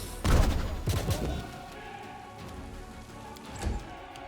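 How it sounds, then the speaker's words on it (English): A Magic Missile spell cast in the video game Pathfinder: Wrath of the Righteous lands as a few sharp, booming impacts, two close together early and one later, over a low game ambience. "So, that's Magic Missile."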